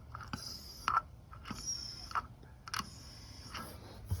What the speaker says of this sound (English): You press the primer button a couple of times, get the air out of the hose, and prime the system.